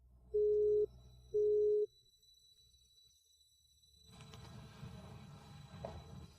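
Telephone line tone while placing a call: two loud, steady beeps of equal length with short gaps, followed by quieter background noise and faint rustling.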